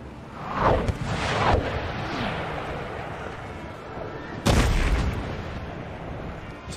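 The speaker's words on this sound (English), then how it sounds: "Soon San Sebastiano will begin to open fire as well." Warship cannons fire broadside in the Empire Total War game: several deep, heavy booms, one after another, each rolling out into a long rumble, with a loud blast near the end.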